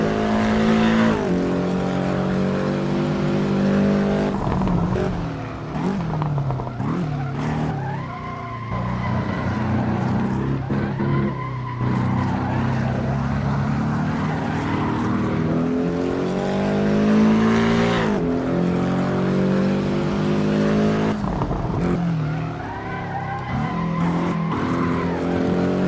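Porsche 718 Cayman S in a time attack in Assetto Corsa: a loud engine revving up and down through gear changes, with tyre squeal and skidding in corners, continuous for the whole run, with no talking.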